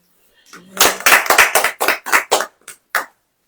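A few loud, close claps at a church sermon, an irregular burst of about ten sharp hand strikes tapering off, with a brief voice at the start.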